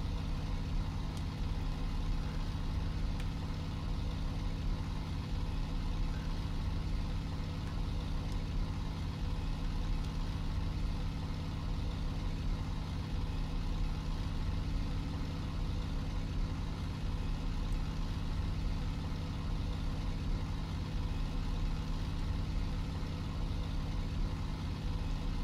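A P-51 fighter's piston engine droning in the IL-2 Bodenplatte flight game at continuous power, a steady, unbroken low hum sustained evenly throughout with no talk.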